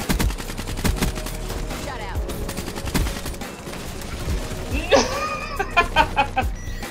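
Automated sentry gun fire in Call of Duty: Black Ops 3 multiplayer, with dense rapid gunshots throughout, over game noise, and someone talking near the end.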